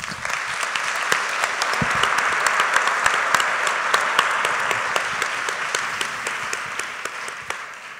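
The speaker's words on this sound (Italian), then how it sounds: "va il mio applauso e il vostro applauso e benvenuto" Audience applause welcoming a doctor onstage at an Italian science talk on longevity, steady dense clapping from a large crowd sustained for the full eight seconds with no speech over it.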